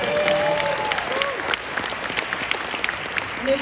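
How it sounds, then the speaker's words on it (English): Theatre audience applauding during an anniversary film screening at the Egyptian Theatre, a full, close round of clapping from a crowd with a few cheers mixed in, fading slightly toward the end. "So let's give that a round of applause."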